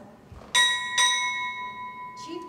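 A ship's bell rings twice in quick succession at a military chief pinning ceremony, each clear metallic tone lingering and fading, with faint background murmur.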